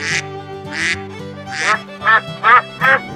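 Cartoon duck quacks in a bright, nasal series of about six calls, loud and close, alone with no talking.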